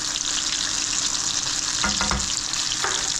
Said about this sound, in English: You can't get anything as crispy in a deep fat fryer.